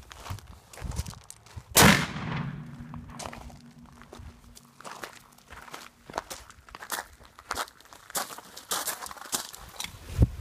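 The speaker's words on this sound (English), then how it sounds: "12 gauge, 2 3/4-inch slug." A single sharp, loud blast from a 12 gauge shotgun firing a 2 3/4-inch slug into interior walls rings out early, followed by scattered footsteps and light crunching.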